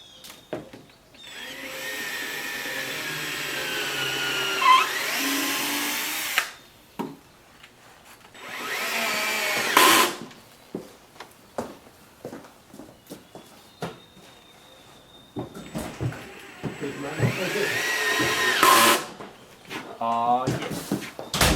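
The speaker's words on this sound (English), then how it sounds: "Drill 2 holes. Put 2 in there." Power drill boring holes into wood while building a bed frame for a 2017 Dodge Grand Caravan. Several whirring bursts of a few seconds each are separated by quiet gaps, with brief talk near the end.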